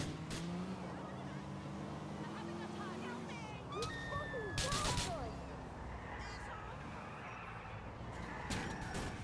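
A car cruises through city streets in Grand Theft Auto IV, its engine humming and shifting in pitch at moderate volume, with brief whooshes of passing traffic and a voice talking over it.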